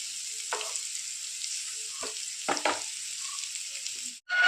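Bitter gourd (pavakka) pieces fry in a pan with a steady, bright sizzle throughout, broken by a few soft clinks and stirring taps before a brief drop near the end.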